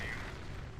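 An upgunned Sherman tank fires at a StuG in a World War II strategy game, heard as a deep, rumbling cannon boom that fills the whole short moment and rolls on without a sharp break.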